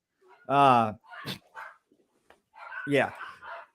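Small poodles bark in two loud, close bursts, one short and one longer with a pause between, while people talk nearby.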